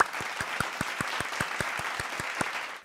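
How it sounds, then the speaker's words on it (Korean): Children in a church Sunday school service clap together for about three seconds, a steady burst of many hands with rapid overlapping claps, fairly close and fading out at the end. "박수합니다."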